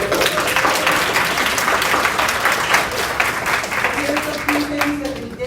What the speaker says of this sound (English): So can we give an applause now for what you guys did?